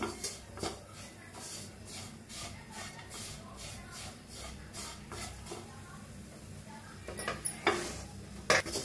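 Masala being stirred and roasted in a pan for an aloo bhindi dish: soft, faint shuffling scrapes of a spoon repeat steadily, with a few sharper clinks of metal near the end.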